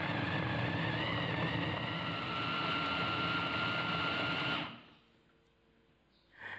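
An electric chopper whirs steadily for several seconds, chopping chili and shallot for sambal, then stops abruptly, leaving near silence before a brief sound at the end.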